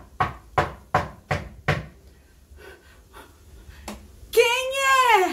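Five loud, evenly spaced knocks strike a door close by, followed by a few fainter taps and then a rising, wavering voice.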